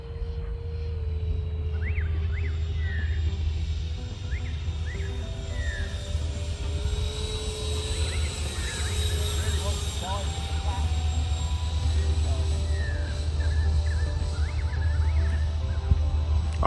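Freewing A-4E/F Skyhawk 6S 80mm EDF RC jet making a low pass, a sustained whooshing ducted-fan whine that swells and fades from nearby, with people talking over it.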